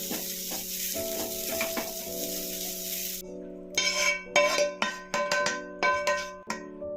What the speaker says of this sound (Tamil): தேங்காயும் லைட்டாக நெய் விட்டு லைட்டான பதத்துக்கு வறுத்து எடுத்துடலாம்.